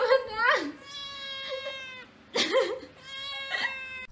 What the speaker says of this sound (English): found their cat stuck between two curtains